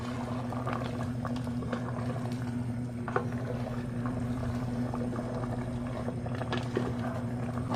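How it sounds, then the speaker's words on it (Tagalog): Broth of sweet and sour chicken feet bubbling steadily in a pot, a constant low simmering burble with a faint hum under it and occasional small pops, close and continuous. "Tuluyan na natin ito pakuluan hanggang sa mag-evaporate konti yung kanyang sabaw"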